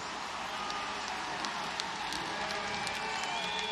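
Velodrome crowd roaring steadily through a track cycling race at the European Championships, a dense continuous wash of cheering and applause with scattered sharper shouts, loud and sustained throughout.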